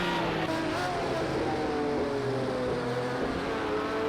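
Simulated Group C race cars, among them a Jaguar and a Mercedes, run at the Nurburgring GP circuit in Project Cars 2, with a loud, sustained engine drone whose pitch climbs and falls.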